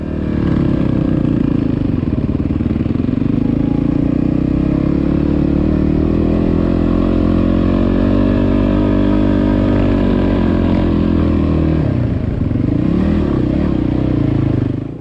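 Motorbikes riding over trail obstacles, a loud continuous engine drone with shifting pitch that rises and falls as the bikes work through the course, close and steady throughout with no talk.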